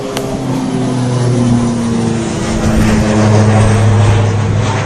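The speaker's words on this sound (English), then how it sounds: "Airplane!" An airplane passes overhead outdoors on a bright day, a steady droning engine hum with a low tonal rumble that swells slightly and holds at a moderate, fairly close level, with no talking.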